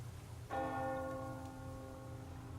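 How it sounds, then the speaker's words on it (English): A church bell in Metro Exodus strikes once, clear and fairly loud. The tone then rings out and slowly decays over a low ambient rumble, with no talk. "Do you hear that bell?"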